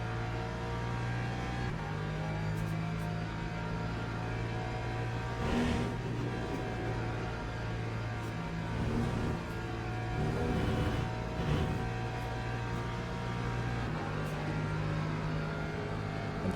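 A race car engine in the Le Mans Ultimate sim at Spa holds a continuous, moderately loud drone, its pitch rising and falling slightly as the car accelerates and lifts through the sector.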